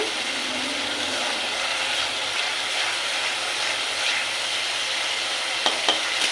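Masala spices frying in oil in a pan near the end of cooking down, with oil rising to the surface; a steady, continuous sizzle holds throughout, with a couple of faint clicks near the end.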